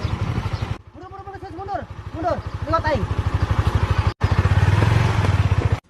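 An old, battered motorcycle engine idles with a rapid, steady putter, loud and close, while voices talk over it and the engine note cuts out briefly before resuming.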